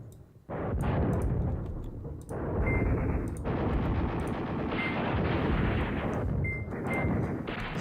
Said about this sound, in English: Just drop all the artillery on them.